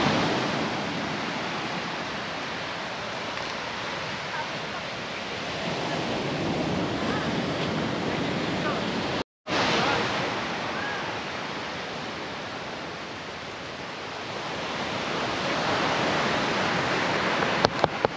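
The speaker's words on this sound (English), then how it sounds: "A waterfall." Steady broadband roar of rushing water, continuous and fairly loud, with a brief dropout partway through.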